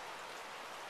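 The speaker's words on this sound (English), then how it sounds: "You can hear the rain hitting everything out there" Rain falls steadily on everything outdoors, a dense, even hiss of countless drops at moderate distance, with no speech.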